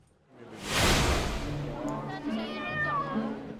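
A cat meows at a cat show: a drawn-out, fairly close meow follows a breathy whoosh, with a soft background voice.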